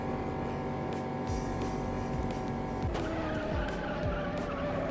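Race car tires skid and squeal through a corner in the racing game Juiced, a continuous harsh screech over a loud revving engine with sweeping pitch shifts as gears change.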